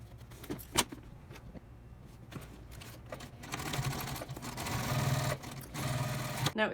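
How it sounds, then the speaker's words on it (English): A sewing machine stitching a tote bag pocket closed, starting after a few handling clicks and knocks, then running in a steady whirring rhythm that grows louder toward the end. "we are just going to fold over and stitch this pocket closed"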